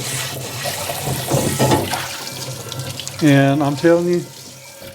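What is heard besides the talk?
rinsing cast iron cookware under running tap water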